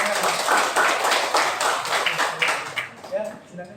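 Classroom audience clapping in a continuous broadband burst for several seconds, fairly close, tapering off near the end as a voice briefly comes in.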